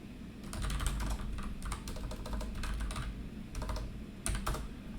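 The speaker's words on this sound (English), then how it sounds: "by tabbing through your table elements, and if you click enter, you can add a new option" Computer keyboard typing while tabbing through table elements in a form, a steady run of soft clicking keystrokes with brief pauses and a couple of louder bursts, recorded close with no talking.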